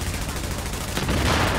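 Explosive rounds fire continuously in The Division, a dense, loud, rapid rattle of shots and blasts that thickens and grows louder partway through, with no talk.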